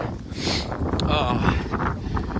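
Gusty, cold wind rumbles across the microphone while a person talks faintly underneath.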